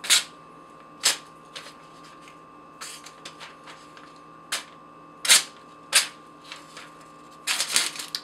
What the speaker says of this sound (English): you can't really see it when I'm cutting this paper